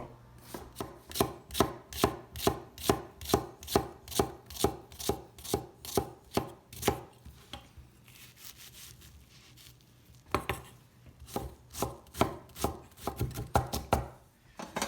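A knife chops through an onion on a cutting board in quick, steady strokes, close and crisp, pausing briefly before a few more cuts.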